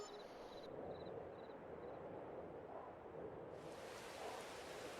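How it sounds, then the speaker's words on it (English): Steady rain falls in the video game Farming Simulator 22 as a continuous soft hiss with a low rumble, faint and even throughout, no voices. "A little bit of rain."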